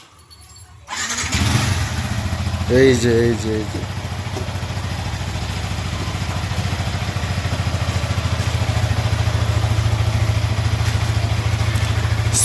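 A Yamaha R15 sports motorcycle in a garage starts up after a brief silence, then settles into a steady, close, loud idle with a low throb, with a person speaking briefly over it early on.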